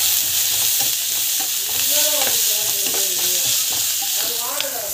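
Rice for mango rice fries with asafoetida and salt in a hot pan, giving a loud, constant sizzle under steady stirring and spoon scrapes, close up and without speech.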